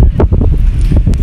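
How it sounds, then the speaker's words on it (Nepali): Wind blowing hard across the microphone at a lakeside viewpoint in Nepal, a steady low roaring buffet with gusty swells throughout the short stretch and no talking. "अनि हावा मिठो लाग्छ"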